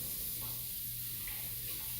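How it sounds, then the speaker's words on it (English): Tap water running steadily into a sink during handwashing in a home kitchen while baking, a soft continuous hiss at moderate distance with no talk. "Just wash my hands."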